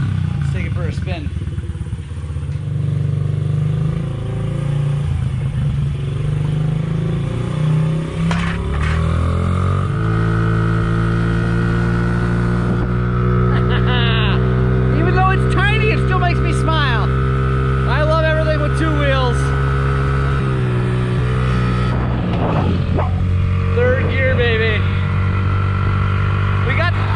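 KX100 dirt bike with a blown-up engine, ridden close by, giving a loud, raspy two-stroke drone that rises and falls in pitch, with voices talking over it at moments.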